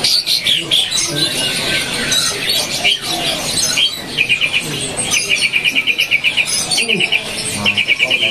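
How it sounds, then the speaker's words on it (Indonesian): An Asian pied starling sings among other caged birds at a busy bird market, giving repeated rapid chattering trills and whistles over a dense, noisy crowd of birdsong. "jadi jalak suren rasa kapas tembak"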